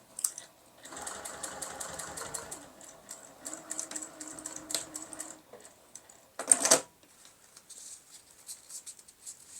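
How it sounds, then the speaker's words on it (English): A sewing machine stitches fabric in quick bursts, its needle chattering rapidly, pausing and restarting several times, close and clear with no voices. "Take it to the sewing machine and sew 3/8 of an inch in from the edge."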